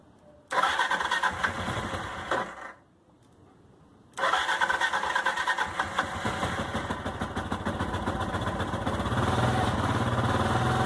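A motorcycle engine, revived after sitting for four months, starts and runs with the choke half on, cutting out briefly before catching again and settling into a steady, loud, close rumbling idle.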